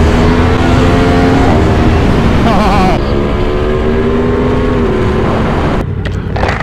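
A Yamaha MT10 motorcycle being ridden, its engine droning steadily with shifting revs and wind rush, loud and close throughout, ending in a cut to quieter noise.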